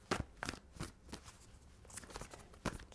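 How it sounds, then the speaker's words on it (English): A deck of tarot cards is shuffled by hand at close range, with soft, irregular riffling and slapping bursts spread over a few seconds in a quiet room. "I feel compelled to shuffle again."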